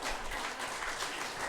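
Applause from a church congregation during a Sunday worship service: a brief, soft, steady wash of clapping with no voices over it.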